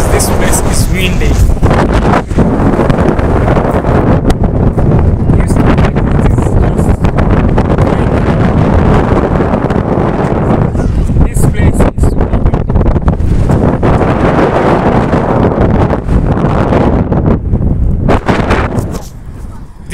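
Strong wind roars into the microphone on top of the Kapsaret flyover in Eldoret, Kenya, a loud, continuous buffeting rush with gusty surges throughout.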